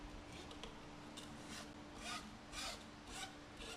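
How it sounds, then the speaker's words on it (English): Hand files rasping on wood during small model train landscape building, a series of soft, close scraping strokes in an uneven rhythm over a faint steady hum. "The files, they work pretty darn good."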